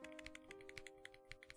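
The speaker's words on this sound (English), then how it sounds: "my keyboard is a nice boy. It makes nice sounds too." Light tapping on a sky blue computer keyboard, a quick irregular run of soft clicky keystrokes, quiet and close, over a steady background hum with no talk.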